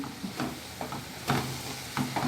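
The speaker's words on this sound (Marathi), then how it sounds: "बघा हे व्यवस्थित असं परतवून द्यायचं" Onion stir-fried with crushed ginger, garlic and chilli paste for spicy mutton mince, a close sizzle with a spatula scraping and tossing in irregular strokes.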